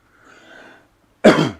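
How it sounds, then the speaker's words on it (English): A single sharp, loud cough erupts close to the microphone after a soft throat-clearing rumble, with silence in between. "Sorry, I didn't mean to cough."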